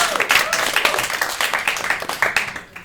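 An audience at a live performance claps steadily, with dense, close applause holding for a few seconds at fairly even loudness and no clear voices over it.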